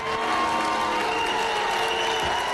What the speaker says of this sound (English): a mix of applause and boos erupted with the announcement of the results